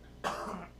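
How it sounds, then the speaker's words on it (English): One short, sharp cough close to the microphone in a broadcast studio, alone against quiet background hum. "Everybody's like coughing up a lung."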